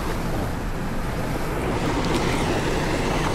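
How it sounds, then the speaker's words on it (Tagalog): Water from a waterfall and a flowing mountain spring on a farm rushes in a steady, dense roar that stays at the same level throughout, with no voices. "nakaka-relax yung tunog ng kanyang tubig"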